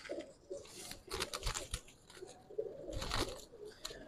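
Male pigeons, including a high-flyer type, coo nearby in soft, rolling bursts, with faint flutters and scuffing among the birds in between.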